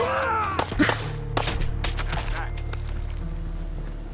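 Raiders open fire with guns in Fallout 4, a few sharp bursts of gunfire cracking out in the first two seconds over steady game ambience, then fading to a low hum.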